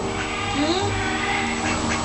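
A duck being greeted and fed gives a few short, rising quacks close by over a constant background hum.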